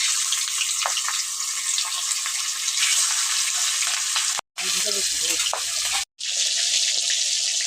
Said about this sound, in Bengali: তেল গরম হয়ে গেছে এখন আমি মাছগুলোকে ভেজে নেব